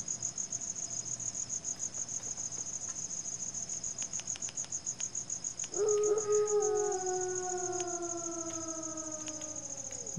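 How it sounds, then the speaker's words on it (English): Crickets in the SpellForce video game keep up a continuous, rapid, high chirping throughout. Midway, a louder sweeping, siren-like tone comes in and persists beneath the steady chirps. "Good old crickets."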